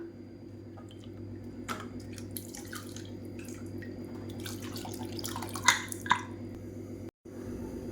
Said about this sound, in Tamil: அதில் கொஞ்சமாக தண்ணி விட்டு அலசி நம்ம அப்படியே அதில் சேர்த்துக்கலாம்